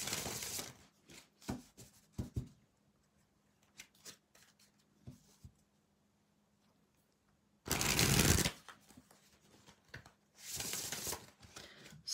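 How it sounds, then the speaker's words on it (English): A deck of playing cards is shuffled in several loud riffling bursts, with softer card handling and taps in the quiet gaps between them. "I'm going to pull few cards just to see what happened."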